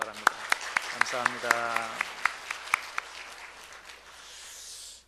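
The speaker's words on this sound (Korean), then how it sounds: "박수로 환영해 주시기 바랍니다." A church congregation bursts into applause during a worship service, a broad wash of clapping that swells after a short spoken line and then fades away.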